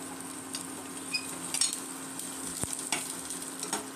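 Chopped garlic and onion fry in melted butter in a pan, a soft steady sizzle with light stirring scrapes, moderately quiet and close, no voices.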